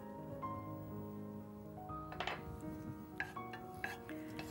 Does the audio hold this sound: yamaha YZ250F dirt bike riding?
no